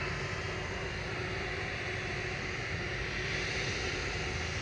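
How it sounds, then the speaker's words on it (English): An Airbus A330-200 with Rolls-Royce Trent 700 engines at Manchester Airport produces a dense, steady engine roar, broad and unbroken, moderately distant and constant in level. "A330-200 VYGL with flight 917 over to Tenerife South. Bit of Trent 700 action for you."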